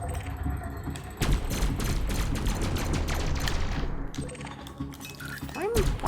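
Rapid bursts of ship weapon fire in the space game Elite: Dangerous, dense and continuous over a busy in-game mix, with a rising whine near the end.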